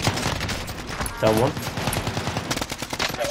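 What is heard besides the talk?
gunfire in video game Call of Duty: Warzone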